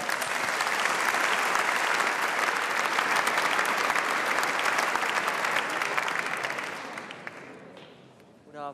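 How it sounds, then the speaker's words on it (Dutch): A large audience at a Frisian sports gala applauds a comedian and television presenter. The clapping is dense and sustained, then fades near the end as a voice begins speaking. "Mag ik een applaus voor Jan-Jaap van der Wal."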